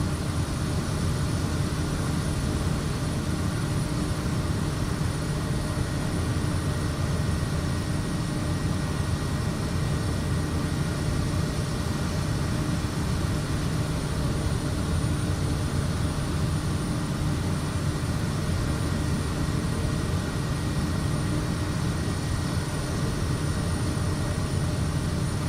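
Aircraft engine in Microsoft Flight Simulator 2024 on an oversized heavy cargo flight, a steady loud broadband roar with a constant high whine, holding even throughout with no clear drop.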